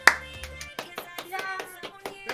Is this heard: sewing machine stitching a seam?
no